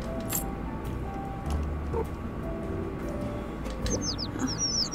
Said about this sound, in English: That's a tricky little bird to catch.